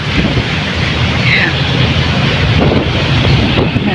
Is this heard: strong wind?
yes